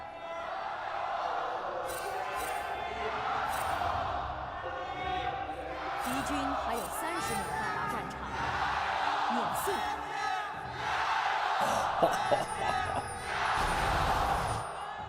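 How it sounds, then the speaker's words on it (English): An esports arena crowd at a League of Legends LPL match yells and cheers in a sustained roar, swelling in waves with whoops and shouts over about fifteen seconds. "Hand it over to the crowd for their moment of yelling before we come back to listening to me."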